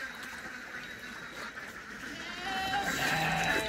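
Goats bleat in a livestock pen, several overlapping calls, some nearby and some farther off, over a steady background hum.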